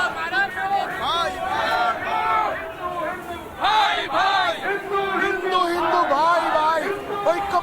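A crowd of protesters chanting slogans at a rally over attacks on Hindu minorities in Bangladesh, loud rhythmic massed voices rising and falling in waves, close and continuous.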